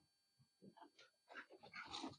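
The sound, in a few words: dog whimpering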